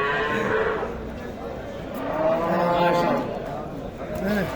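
Cows moo at a cattle market selling bulls and cows, with several long, drawn-out lowing calls close by, rising and falling over background voices and crowd chatter.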